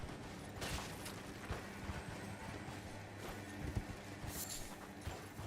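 Hooves of a spectral steed being summoned in Elden Ring, quiet clip-clop steps with a few soft bursts over a low ambient game backdrop.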